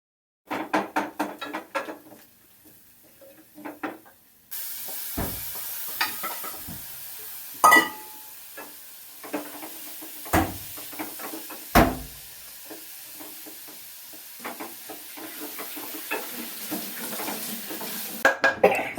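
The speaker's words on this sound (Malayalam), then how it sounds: "ഉള്ളിമുളകും വഴറ്റുകയാണ്" Onion and chili sizzle steadily in a pan while a utensil scrapes and clinks against the metal several times, close by.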